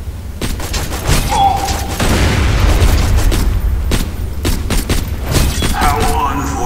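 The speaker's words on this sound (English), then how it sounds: "Assassinated him with a pistol." Pistol shots in Borderlands 2, a series of sharp pops and booms spread across the clip amid loud game effects, with a player talking over them.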